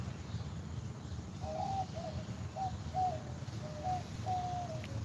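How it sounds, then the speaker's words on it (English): An owl calls outdoors on a gloomy day, a series of soft hooting notes at a distance, faint over steady low outdoor rumble and wind. "Girl, there's an owl somewhere."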